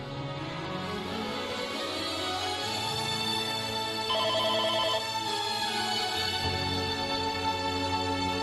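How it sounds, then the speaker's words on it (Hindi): A telephone ringing indoors in a drama scene: a steady, electronic ringtone repeating its pattern continuously and fairly loud throughout, with no voices over it. "मुझे भी पता कि फोन बज रहा है।"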